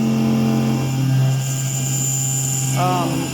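A Langmuir MR-1 CNC mill cuts a steel part at 8000 RPM and 24 inches per minute with a 10 thou stepover. It produces a loud, close, steady tonal whine with layered humming harmonics, and the pitch shifts slightly toward the end.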